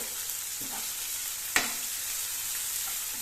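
Small shallots sautéing in plenty of oil, a continuous soft sizzle with a few light stirring taps and one sharper clack midway, no voices.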